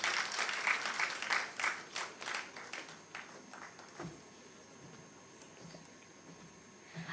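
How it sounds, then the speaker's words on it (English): Audience applause for a session moderator at an English language teachers' conference, distinct individual claps quite close at first, thinning and fading to a few scattered claps and quiet room tone. "Please give a big round of applause for our moderator for this session."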